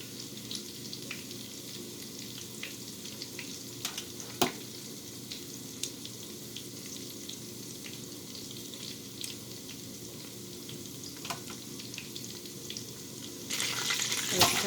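Corned beef egg rolls fry in a pan with a continuous, fairly quiet sizzle and crackle, broken by occasional sharp pops and clicks, and a louder rush of oil near the end.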